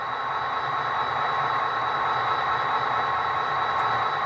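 A steady low engine rumble with a constant hiss from a Tsunami 2 sound decoder in an Athearn GP40P-2 model diesel locomotive, like an idling locomotive after starting up, continuous and fairly even throughout with no talking.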